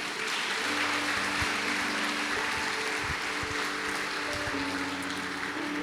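A church congregation claps steadily for Humberto's 32nd birthday, a dense, even wash of many hands filling the whole stretch with a low musical drone beneath.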